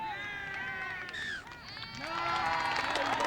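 A crowd cheers and shouts at a junior touch rugby match between England and Wales, a mix of high voices that dips briefly and then swells louder, with a commentator talking over it.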